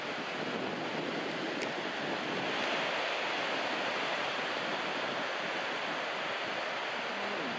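Steady ocean surf at Sendai Shinko beach in Japan, a continuous broad wash of breaking waves with wind rushing across the microphone, heard alone without voices.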